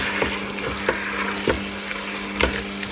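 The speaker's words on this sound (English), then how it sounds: "I'm going to allow the meat to heat up as well" Mutton curry sizzling and frying in a pan on the stove, a steady close hiss with a few soft stirring scrapes of a silicone spoon at intervals.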